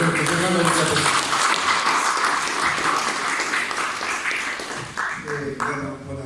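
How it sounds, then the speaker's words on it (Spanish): An audience at a university book presentation claps steadily for a speaker. The dense applause fills the middle of the moment, with voices heard briefly at the start and end. "Vamos a seguir con fuertes palmas al doctor José Carlos Beltracoma."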